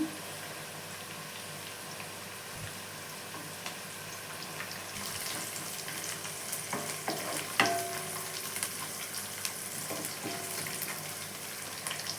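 Capsicum and chilli fry in a pan for egg rice, a constant sizzle broken by spatula stirring and scattered metallic clinks that grow more frequent midway.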